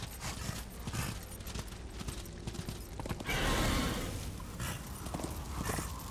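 A horse in the video game Darksiders, with clip-clopping hooves and a brief whinny amid game noise, a louder surge of action in the middle, no talk.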